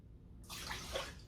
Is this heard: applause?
no